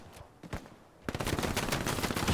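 Machine gun fire in Hell Let Loose, a WWII-style multiplayer shooter: a few scattered distant shots, then a sustained loud rattling burst of rapid automatic fire, no talking.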